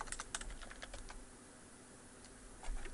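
Quiet typing on a computer keyboard to enter a search: a quick run of soft key clicks, a pause, then a few more taps at the end.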